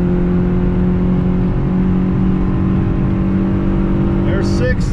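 A Chevrolet Beretta GTZ engine revs hard uphill in third gear, a loud, sustained drone from inside the car that holds steady throughout, with a brief higher whine near the end.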